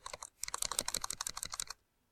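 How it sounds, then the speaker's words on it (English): Rapid, close keystrokes clatter on a computer keyboard in a steady burst for under two seconds, then stop. "All you do is start typing."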